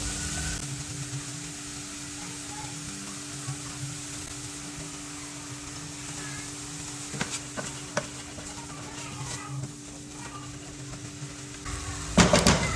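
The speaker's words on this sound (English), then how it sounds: "So we are going to add in our cooking oil and our chopped onions." Chopped onions fry softly in cooking oil in a pan, a faint, steady sizzle with a few light clinks and stirring sounds, ending in a brief louder clatter.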